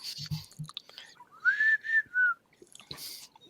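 A person whistles a short melodic phrase of a few sustained, gliding notes, close and clear, with faint clicks and rustling around it.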